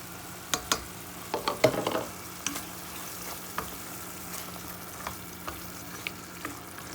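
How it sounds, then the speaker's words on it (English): Diced carrots frying with pepper in liquid butter for a white sauce pasta, a soft steady sizzle with a cluster of louder stirring clatters early on, then quieter occasional taps. "I'm adding liquid butter here. Liquid butter. Pepper and my diced carrots here."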